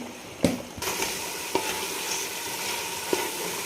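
Parboiled rice stirred in a pot for smoky chicken biryani, with a continuous frying hiss and a few sharp scrape-and-tap knocks of the spoon against the pot, close and fairly loud.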